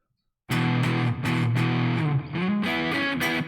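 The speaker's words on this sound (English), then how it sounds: "you get really nice distorted tones in the neck position without being too compressed and too crazy on the bass end" Distorted electric guitar played through the neck pickup, warm and not overly compressed, with a run of loud sustained chords and picked notes in a steady rhythm, played alone with no talking.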